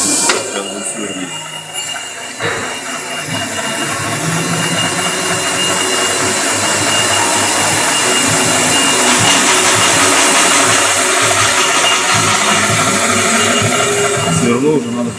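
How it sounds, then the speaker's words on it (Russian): A milling machine drills a 2 mm hole in a workshop part, a loud, steady machine whir that builds and holds throughout. "Сейчас буду сверлить."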